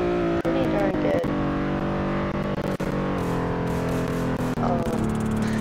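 A car engine drones and climbs through the gears in Roblox Greenville while it speeds downhill toward its top speed in sixth gear, a loud continuous whine with a voice talking over it.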